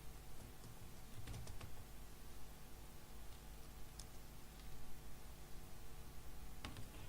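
Fingers tap out text on a computer keyboard, a quiet, steady patter of keystrokes with a few sharper clicks over faint background hiss.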